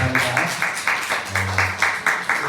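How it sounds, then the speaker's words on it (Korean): A church congregation at a Sunday service applauds in a steady rhythmic clap, fairly close and moderately loud, with a low voice briefly underneath. "수고해주신 모든 분들 위해서 박수 한번 드립니다."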